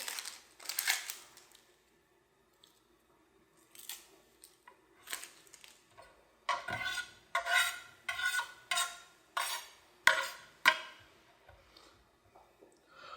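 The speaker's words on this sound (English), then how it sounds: "I'm going to peel the top couple layers off until I get down to good solid onion." Papery onion skin being peeled from a halved onion, a run of dry crackling rips and rustles close by, bunched into several bursts with short pauses between them.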